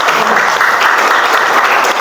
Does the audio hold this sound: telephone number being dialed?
no